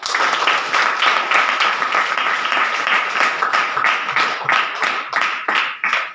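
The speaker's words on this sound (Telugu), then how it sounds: "వెరీ గుడ్ అందరు చప్పట్లు కొట్టండి" Audience applause at a Christian gathering: dense, steady clapping from many hands, loud and close, sustained throughout with no talk over it and a slight fade at the end.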